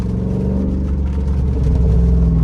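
A Jeep Rubicon 392 with a full tune and PCM swap revs hard in first gear, a loud, deep rumbling engine swelling close up, with no pops or crackles heard.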